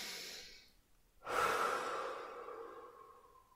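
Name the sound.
deep breathing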